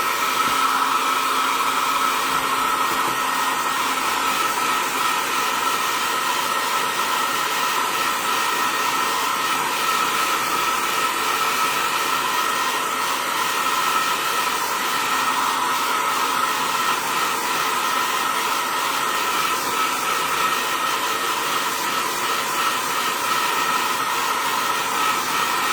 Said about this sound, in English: got the hairdryer, excuse the noise.